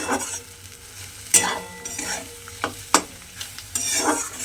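Egg scrambled and lightly fried into small bhujia crumbles in a pan: a steady close sizzle with repeated scraping stir strokes and a few sharp utensil clicks against the pan, no voices.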